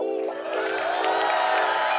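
Studio audience on an Indian comedy talk show bursting into applause and cheering for a tennis star's entrance, a steady loud wash of clapping and whoops that swells and holds without pause.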